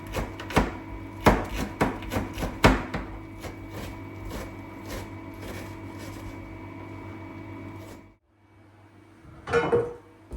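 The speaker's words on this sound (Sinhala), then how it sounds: "ලීස් කපනවා බිම." A knife chops leeks on a board, landing in a quick run of sharp, close knocks that slows into scattered cuts, then falls quiet before a brief final clatter.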